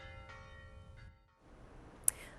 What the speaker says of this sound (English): So in Avantus, the bells toll a warning.